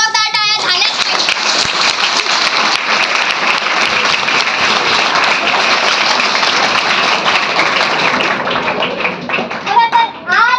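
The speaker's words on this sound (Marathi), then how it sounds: "यांच्यासाठी एकदा जोरदार टाळ्या झाल्याच पाहिजे" A loud audience at a women's liberation day event honouring Savitribai Phule bursts into sustained applause, dense clapping filling nearly the whole stretch before it fades, with children's voices and talk surfacing at the edges.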